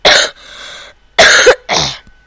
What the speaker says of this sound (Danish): så hoster jeg sådan her.